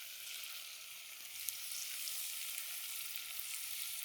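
Tomatoes dropped onto roasted spices in a pan at a camp cooking setup, producing a steady bright sizzle and frying hiss that holds evenly throughout, with no talking.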